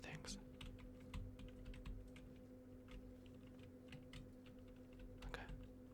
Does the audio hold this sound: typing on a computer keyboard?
yes